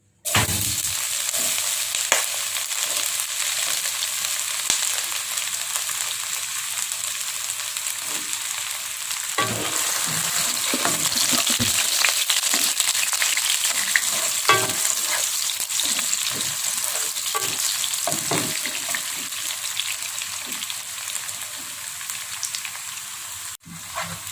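Tempeh frying in hot vegetable oil gives a steady, dense sizzle and crackle that runs the whole time, close and fairly loud, with occasional stirring clatter and no talk.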